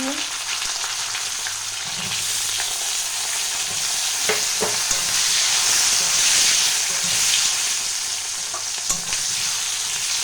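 Chopped onion and potato frying in hot oil for a katla fish curry, a steady loud sizzle with occasional stirring clinks and scrapes throughout, no voices.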